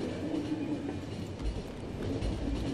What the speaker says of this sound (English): But the train's going steady.